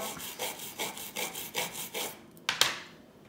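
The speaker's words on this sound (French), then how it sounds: "Il ne reste plus qu'à le nettoyer. Peut-être prendre un peu plus dur comme brosse." A stiff brush scrubs solder joints clean in regular back-and-forth strokes, about eight rhythmic rasping passes, close and moderately loud, ending with a couple of sharp taps.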